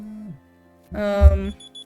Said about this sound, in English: That's my medication alarm.